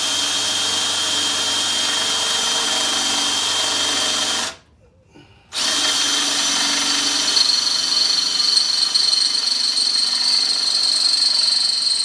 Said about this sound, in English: go ahead and get this one drilled out